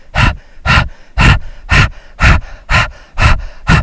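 Rapid rhythmic panting through the nose with the mouth closed during a yoga breathing exercise, eight sharp, loud, close puffs at an even pace of about two per second.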